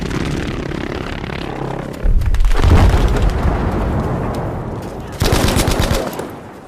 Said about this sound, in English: the devastating blast of a V1 rocket